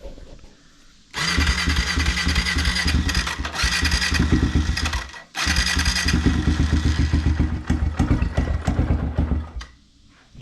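A motorcycle engine cranks, catches and revs in loud, close bursts, briefly dies, then restarts and runs with a rough, pulsing idle and throttle blips before quieting.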